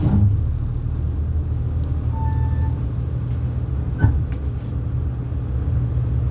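A bus engine idles steadily with its push-button automatic transmission set in drive, a continuous low rumble holding throughout with a faint brief clunk near the middle.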